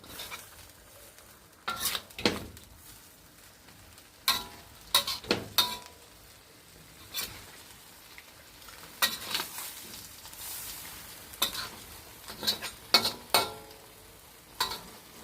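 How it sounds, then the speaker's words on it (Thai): Intermittent sharp scraping and clattering of a spatula in a hot wok, bursts of sizzle between quieter pauses, close by with no talking. "คั่วให้แห้งให้น้ำรดๆเลยจ้ะ"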